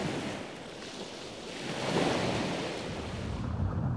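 Ocean waves and surf at sea roll in a continuous broad wash that swells louder midway, mixed with wind rumble on the microphone and no voices.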